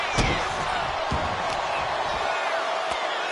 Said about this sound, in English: Shot after shot, and slamming their opponent's face to the canvas.